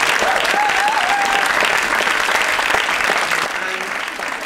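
A large audience applauds after a speech at a public event, a dense, steady roar of many clapping hands that holds strongly and then tapers slightly toward the end.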